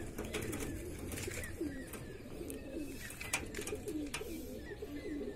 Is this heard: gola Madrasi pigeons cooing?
yes